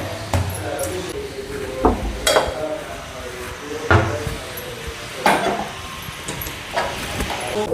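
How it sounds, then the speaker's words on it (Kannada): Garlic cloves being crushed for a beetroot stir-fry, a series of sharp knocks and thumps spaced a second or so apart at close range, alone, with kitchen clatter. "ಬೆಳ್ಳುಳ್ಳಿನ ಜಜ್ಕೊಳ್ತಾ ಇದ್ದೀನಿ"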